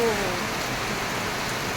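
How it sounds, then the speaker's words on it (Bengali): Heavy rain pours steadily outside over a small balcony flower garden, a dense, close hiss of drops hitting leaves and surfaces throughout, with no pauses. "কি দারুণ বৃষ্টি হচ্ছে"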